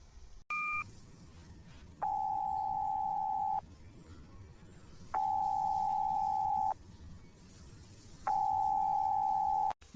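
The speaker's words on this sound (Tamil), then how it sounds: "எவ்வளோ நேரம் ஃபோன் பண்ணுறேன் ஃபோனை எடுக்கவும் மாட்டேங்கிறாங்க" A phone line tone repeats in long steady beeps, three drawn-out tones with pauses between them, following a brief higher double beep at the start. The call goes unanswered.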